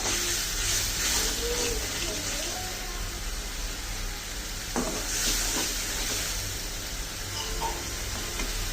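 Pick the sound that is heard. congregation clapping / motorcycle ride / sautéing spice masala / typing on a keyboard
sautéing spice masala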